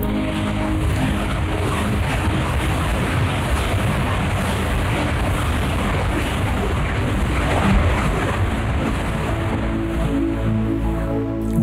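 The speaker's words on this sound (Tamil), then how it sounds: "அருவிகள் விழுந்தன." Continuous loud rushing roar of falling water, a dense steady wash across the whole clip, heard alone with no voices, as in a staged Tamil cultural performance evoking waterfalls.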